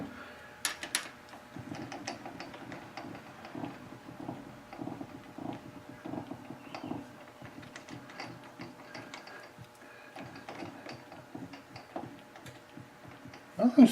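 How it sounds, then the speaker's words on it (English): A workshop lathe running with a strange fault gives off a faint, persistent ticking, soft repeated mechanical clicks over a low hum, with a couple of louder knocks near the start and end. "I don't believe I've ever heard that noise come out of this lathe before."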